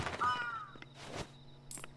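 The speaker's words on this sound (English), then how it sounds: "Fuck you, crows." Crows cawing in the video game Yomawari: Midnight Shadows, a few harsh calls close by against a quiet ambient background.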